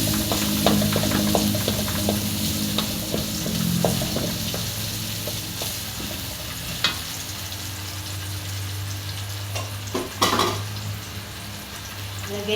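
Ginger, onion and garlic sautéing in a pan for Filipino tinola chicken soup, a steady crackling sizzle with occasional stirring scrapes and utensil clinks, close and continuous with no talk.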